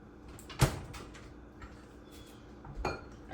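A knife punches open a can of chickpeas in a home kitchen, making two sharp, close metallic clanks about two seconds apart over a quiet room background.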